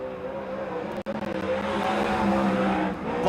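Race car running a qualifying lap on the dirt oval at Silver Dollar Speedway, a loud continuous engine roar with a brief dropout, then building again as it carries on around the track.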